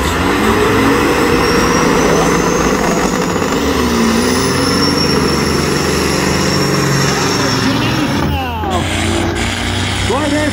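A construction truck from the Joy's Trucking Unit roars loudly and steadily at a drag strip, engine noise dense throughout with a sharp hiss near the end, while an announcer talks over it.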